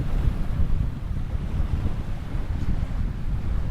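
Strong wind by a lake buffeting the microphone, a continuous loud low roar with gusty fluctuations and no voices.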